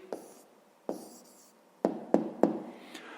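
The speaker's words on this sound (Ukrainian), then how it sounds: "Ну, а тепер записуємо відповідь" A pen writing an answer by hand on paper, soft scratching strokes broken by several sharp taps, close and quiet with no talking.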